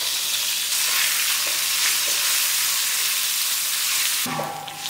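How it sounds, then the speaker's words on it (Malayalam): Red chilies split in half, small pieces of ginger, garlic and curry leaves roasting in hot oil for a Kerala-style curry, giving a steady, close crackling sizzle throughout with stirring and a sharper burst near the end. "ചുവന്നമുളക് രണ്ടായിട്ട് കീറിയത്, ചെറിയ കഷ്ണം ഇഞ്ചി, എല്ലാം കൂടി ഒന്ന് റോസ്റ്റ് ആക്കാം."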